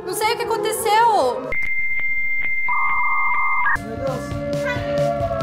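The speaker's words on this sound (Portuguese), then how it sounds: "Mas é alarme, não tem como desligar o alarme." Electronic alarm beeping inside a house: a steady high tone with short pulsed beeps that steps to a lower pitch, sounding loud and near between stretches of excited talking.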